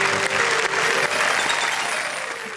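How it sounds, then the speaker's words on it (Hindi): Audience applause breaks out at a Hindi comedy poetry show as a poet is introduced, a dense, loud burst of clapping that holds steady and then tapers slightly. "जोरदार तालियां।"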